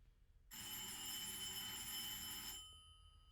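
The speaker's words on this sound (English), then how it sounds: "I'll wait until the telephone stops ringing" A telephone bell rings continuously for about two seconds, a loud, bright, buzzing trill that starts abruptly and cuts off, heard indoors during a quiet lecture with no talking.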